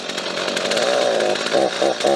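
A chainsaw engine running on E10 fuel stored six months runs loud and uneven, its pitch wavering and sputtering in bursts rather than holding a steady idle.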